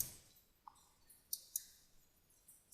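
Several quiet, sharp computer mouse clicks sound one at a time with short gaps between them, close by in a quiet room.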